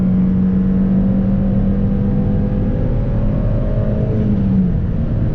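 A Dodge Dart's engine drones loudly and steadily from inside the car, with a sustained tone that sags slightly as gears are shifted, no voices over it.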